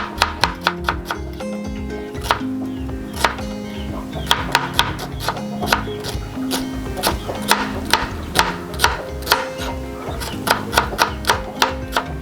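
Onions being chopped for a brain masala (maghaz fry) dish: a steady run of crisp knife strikes on a board, some quick and clustered, others spaced, heard close over a background of music.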